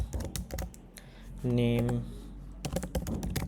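Computer keyboard typing while entering data into a MongoDB database, a quick patter of close clicking keystrokes in bursts, with a voice talking briefly in the middle.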